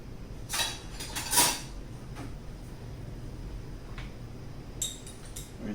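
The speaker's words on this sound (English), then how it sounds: "Get another spoon to mix that in with" A spoon clinks against a bowl while pizza ingredients are mixed, with a few light scraping taps early on and fainter clicks later over a quiet room.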